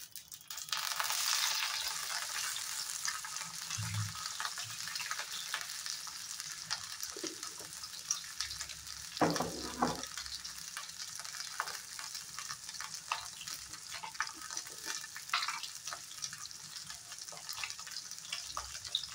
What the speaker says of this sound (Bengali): আলু আর সয়াবিনটা আমি ফ্রাই করে নেব।